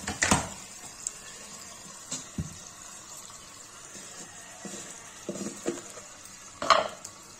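Peas and salt stirred and fried in a pan for a cashew, pea and paneer curry, with faint sizzling and scattered utensil scrapes and clinks against the pan, a sharper clatter at the start and near the end.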